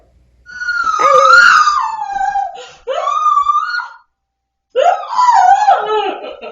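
A dog whines and howls in long, wavering cries, three drawn-out bursts with a short pause between them, loud and close.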